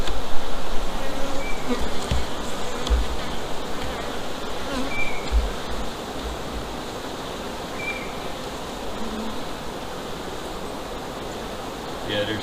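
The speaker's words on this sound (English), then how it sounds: "A lot of fresh bees, newly hatched." Honeybees buzz steadily in an opened hive during a split, a dense continuous drone of many insects that is fuller at first and then eases to a softer, even hum.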